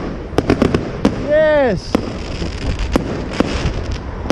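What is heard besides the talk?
fireworks exploding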